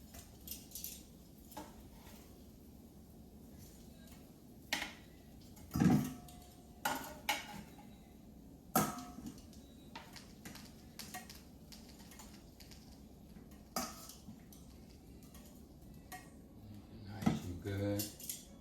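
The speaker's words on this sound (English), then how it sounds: "put them in this pan so we can shake them up together" Air-fried cauliflower shaken together in a pan, heard as a series of light clattering rattles and taps in short bursts, fairly quiet and close.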